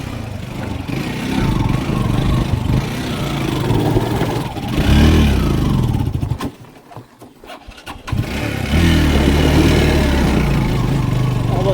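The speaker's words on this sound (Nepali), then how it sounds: "म बाइक घुमाउँछु" A motorcycle engine revs loudly and close while the bike is turned on a rough mountain road in Dolpa. It drops briefly to a near silence, then roars back up.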